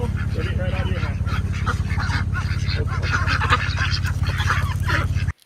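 Ducks, with goose-like honking mixed in, call loudly and constantly at close range while being hand-fed at an outdoor park, with a steady low hum beneath and the noise cutting off abruptly at the end.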